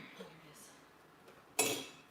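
Dishes and pots clatter in a kitchen while someone rummages for a strainer, a few faint knocks early and then one loud, sharp metallic clank near the end.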